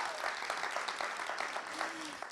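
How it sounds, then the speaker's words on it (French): An audience at a conference on underwater archaeology applauds, a steady spread of clapping that stays moderately loud for a couple of seconds with some faint tonal sound underneath. "Oui, vous pouvez applaudir."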